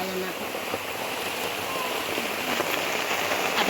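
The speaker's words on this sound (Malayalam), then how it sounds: "അപ്പോഴാണ് മഴ പെയ്യുന്നത്" Steady rain pours down, pattering densely and evenly on a nearby surface without a break.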